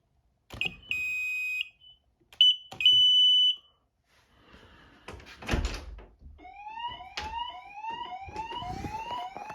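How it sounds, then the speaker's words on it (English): A building security alarm system under test gives several loud electronic beeps up close, then a clunk and rattle, followed by a repeating two-tone warbling alert that grows steadily. "We're doing a quick test on these alarms, super quick."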